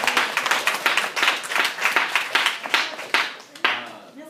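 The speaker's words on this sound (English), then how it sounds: "Let's give um, Heather a round of applause." An audience applauds a presenter at a general education activity review meeting; steady, dense clapping fills the room on its own for a few seconds with no talk over it.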